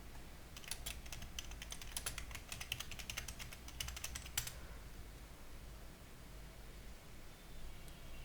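Quick bursts of keystrokes on a computer keyboard, close and clicky, typed for about four seconds and then stopping, leaving only a faint background hiss.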